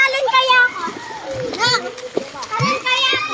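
Children splash into a swimming pool with a few sharp watery impacts, mixed with excited kids' voices chattering and shouting nearby throughout.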